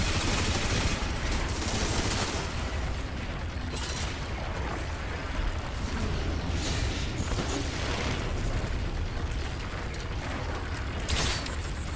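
Explosive arrow blasts and gunfire in the video game Crysis 3 make a dense, continuous barrage of booms and rattling shots. The sound is loud and sustained throughout, with no clear gaps.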